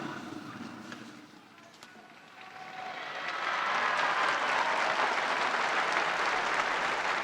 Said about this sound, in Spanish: Y los fieles presentes en la plaza de San Pedro acogen la bendición del Santo Padre con un aplauso